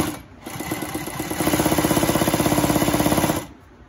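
A Consew 146 zig zag walking foot industrial sewing machine starts up and stitches in a fast, even mechanical rhythm for about two seconds, loud and close, then stops.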